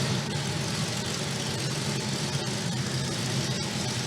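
A Mopar car's engine idles close by in a steady, continuous low rumble, with no voices present.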